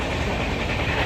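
Train pulling into Mumbai's CSMT railway station, a loud continuous rumble of wheels and carriages filling the clip, close and without speech.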